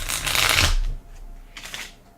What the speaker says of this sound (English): Shuffling is not my strong suit.